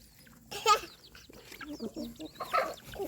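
Chickens, including large hens and chicks, cluck and murmur close by in soft, irregular bursts while feeding in the rain, with a few higher chirps mixed in.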